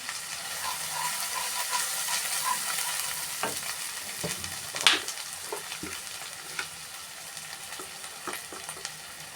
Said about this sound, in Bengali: ধনে গুঁড়ো দিয়ে এটা কষিয়ে নেব।